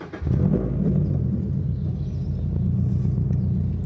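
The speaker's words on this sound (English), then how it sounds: "We're gonna see what it sounds like, you know, now that the engine's warmed up." A warmed-up Toyota GR86 fitted with a new over pipe and front pipe idles close by, giving a steady, deep, even rumble that starts just after a brief quiet moment and holds without revving.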